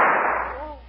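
A gunshot in a radio drama as a woman shoots herself: a sharp, loud burst at the start that decays over about half a second, with a trailing tonal ring.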